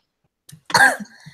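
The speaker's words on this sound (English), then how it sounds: "I'm starting to cough again." A single close, harsh cough preceded by a brief throat sound, then quiet breathing.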